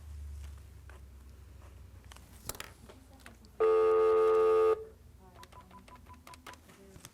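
Telephone line tones from a forwarded call: a single steady electronic tone lasting about a second, loud and clean against a quiet background with faint clicks and low hum before and after.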